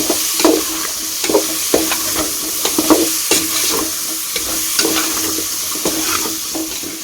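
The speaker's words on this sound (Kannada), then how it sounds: "ಈ ಥರ ಎಣ್ಣೆಯಲ್ಲಿ ಫ್ರೈ ಮಾಡ್ಕೊಂಡ್ಮೇಲೆ ಮಸಾಲ ಉಯ್ಬೇಕು" Bitter gourd frying in oil in a pan, a continuous sizzle broken by repeated rhythmic stirring knocks and scrapes, close and fairly loud with no voices.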